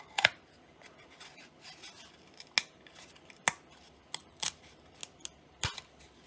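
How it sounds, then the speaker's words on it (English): A dull blade cuts through hardened super glue on a micro RC plane build, giving faint, scattered, sharp snipping clicks and small scrapes at an uneven pace, close up with no talk. "I'm having to cut through the super glue as well, and super glue is surprisingly strong"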